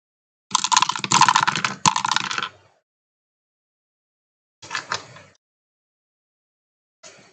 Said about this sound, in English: I love the sound of dice going through these dice towers.